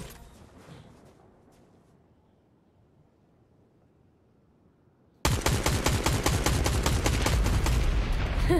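Rapid bursts of gunfire from the video game Fortnite erupt suddenly and loudly after a long stretch of near silence, then continue as a dense, sustained volley to the end.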